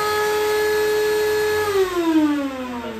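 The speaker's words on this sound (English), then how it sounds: "that's what we get with the vacuum" A cordless vacuum cleaner runs steadily at close range with a whining motor tone that drops in pitch partway through as it loads up or slows, with no talking.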